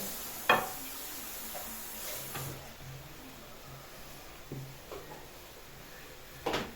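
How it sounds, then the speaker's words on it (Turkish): Onions being sautéed in a pan give a faint, low sizzle, broken by a few sharp clicks and utensil knocks near the start and end. "bir taraftan soğanları kavuruyor"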